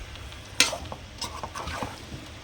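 Chicken pieces being stirred into masala in a pan for a Tamil-style chicken curry, with a few scraping clinks of a spoon against the pot over a soft sizzle, close and moderately loud.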